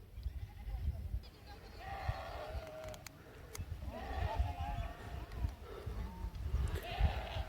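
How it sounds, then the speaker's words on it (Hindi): Sheep of Bakarwal herders drinking water in the Khanmoh area of Srinagar bleat several times at moderate distance over a steady outdoor background hum. "ये बकरवाला की भेड़ है, कुछ पानी पिया लगी"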